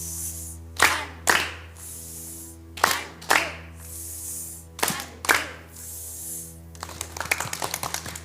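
Children in a class do a rhythmic clapping routine, a few sharp loud group claps spaced by pauses, then a quicker run of lighter claps at the end, with no talk over it.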